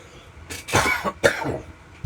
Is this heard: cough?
yes